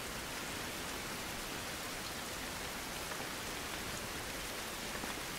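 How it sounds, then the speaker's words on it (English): Heavy rain with strong wind outdoors, a dense, steady hiss of downpour filling the whole stretch, with no talking. "If it wasn't heavy rain right now,"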